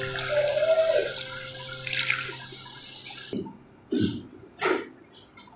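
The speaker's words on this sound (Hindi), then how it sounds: "अब हम इसमें 1 गिलास ठंडा पानी डालेंगे।" Cold water is poured from a glass into freshly churned butter, giving a splashing pour early on followed by a few separate sloshing bursts as the mixture is moved, fairly quiet and close with no talking.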